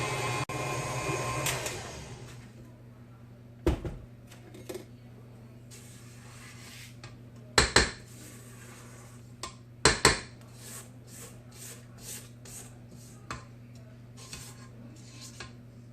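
Spatula scraping the sides of a mixing bowl of molasses cookie dough in a home kitchen, with a few sharp clinks and knocks against the bowl over a steady low mixer hum.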